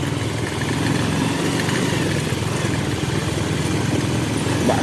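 A motorbike engine idles steadily during a group motorcycle ride on a rough road, a close and continuous low rumble with a constant putter and no talking.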